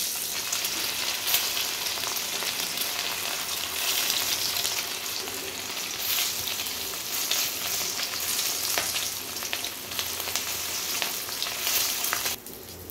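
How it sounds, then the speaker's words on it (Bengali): Eggs frying in hot oil in a pan, a steady, close crackling sizzle that continues unbroken throughout with no talking. "আবারও ভেজে নিচ্ছি।"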